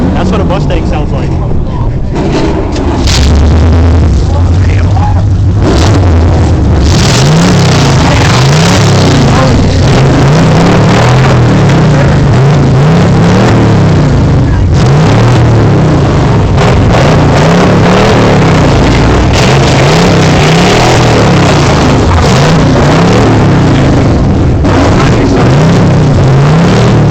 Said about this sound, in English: That's what a Mustang sounds like.